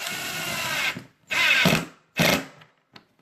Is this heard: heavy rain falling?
no